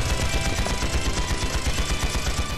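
Dense, continuous gunfire from a battle in the video game Trails into Reverie: rapid overlapping shots and automatic bursts keep a steady, loud barrage going throughout with no pauses.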